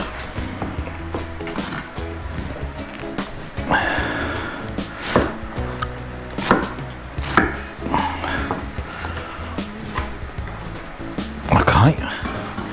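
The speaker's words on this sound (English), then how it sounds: "I do like to taste an onion in it, so I just cut them like that" Onions are cut into chunks with a knife on a board, irregular knocks and slices close by, with a person talking intermittently over the chopping.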